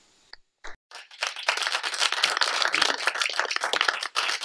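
An audience at a presentation on past New Haven Railroad workers breaks into applause, a brief pause first, then a few scattered claps that swell into steady clapping for several seconds.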